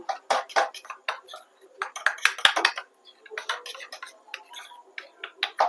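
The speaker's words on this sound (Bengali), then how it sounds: "কর্নফ্লাওয়ার দিলাম দিয়ে ভালো করে এটা ব্যাটারটা করে নেব" Cornflour batter stirred in a bowl with oil, heard as repeated clinks and scrapes of a utensil against the dish in uneven bursts, fairly close.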